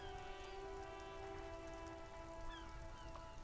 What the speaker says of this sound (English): Droplets of rain fall on the white on blue police livery of the motor